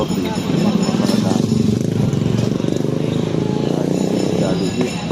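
A motorcycle engine runs steadily while the rider parks on a busy street in Sto. Cristo, Tondo, Manila, with a loud, continuous near rumble and background voices and traffic throughout.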